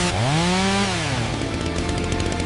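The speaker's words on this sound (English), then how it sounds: "we did bring in a realistic chainsaw" A realistic chainsaw in an AI-generated anime movie scene set in 2029 New York City, revving loudly with a rising then falling whine that settles into a steady, buzzing idle.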